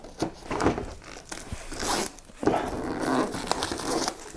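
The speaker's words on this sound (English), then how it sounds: "let's take the cellophane off" Cellophane wrap peeled and torn off a Warhammer 40K box, a close crinkly rustle in irregular bursts with sharp tearing swishes and brief pauses; no talking.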